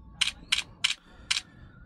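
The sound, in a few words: camera shutter of Oppo Reno 12 Pro phone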